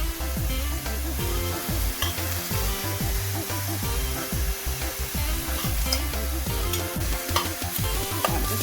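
Mushrooms stir-frying in a pan make a loud, continuous sizzle, with repeated scraping and stirring strokes cutting through the hiss.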